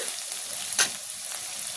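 Onion fries in a pan while being stirred, producing a steady close sizzle with one short scraping stir stroke near the middle and no talk.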